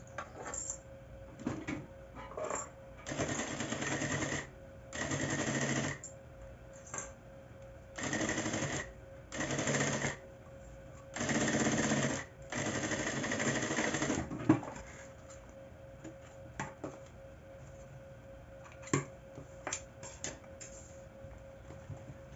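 A sewing machine stitches a fabric lining to a zipper in short bursts, several loud whirring runs separated by pauses, followed by scattered clicks and taps.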